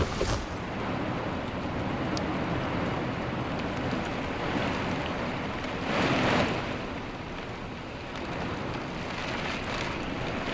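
Wind and rain from a storm buffet an RV awning at a lake campsite, a steady rushing roar with a louder gust swelling midway, no talking.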